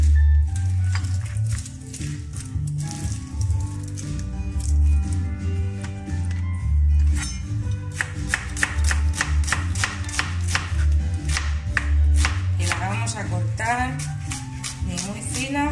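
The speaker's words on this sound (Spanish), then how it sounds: "En un recipiente ancho, la cebolla. Vamos a cortar, a pelarla." Knife chopping a peeled onion in a wide bowl, with a steady run of quick crisp cuts over continuous background music, the strokes denser and faster toward the end.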